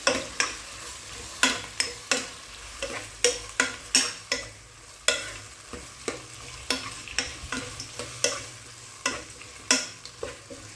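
Tomato and yogurt sautéing for mutton kurma, a spoon scraping and stirring the pan in a steady run of sharp strokes over a soft continuous sizzle, close and with no talking.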